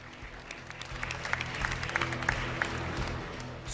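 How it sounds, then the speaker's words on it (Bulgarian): Audience applause fills an awards ceremony honouring the athletes of the year, a steady wash of clapping with a few sharper individual claps standing out near the middle. "Аплодисменти за Георги Глушков и професор Ивайло Христов."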